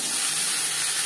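Ridge gourd tossed into onions already fried reddish-brown, sizzling in a hot pan with a steady, even hiss through the whole moment, no voices.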